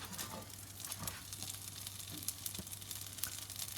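Rice cakes fry in a pan with a faint, steady sizzle and a soft, continuous crackle, heard alone.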